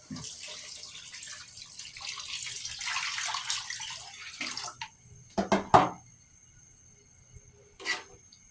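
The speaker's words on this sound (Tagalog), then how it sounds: "Saka natin lalagyan ng tubig." Tap water runs and splashes into a cooking pot while sinigang with pork and taro is prepared, a steady pour that breaks into a few short gushes and drips near the end.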